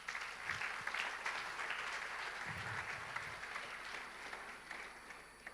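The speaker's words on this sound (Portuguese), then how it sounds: "Você pode aplaudir ao Senhor?" A church congregation applauds steadily, a dense wash of many clapping hands that holds at an even level for several seconds without talk.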